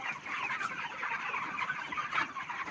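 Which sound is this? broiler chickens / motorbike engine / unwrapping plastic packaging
broiler chickens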